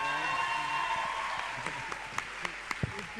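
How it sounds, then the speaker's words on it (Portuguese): Applause from a seated audience at a business panel event on exponential organizations, soft and steady at first, then thinning to scattered claps that fade out with a few sharp individual hand claps near the end. "Uma salva de palmas para o doutor."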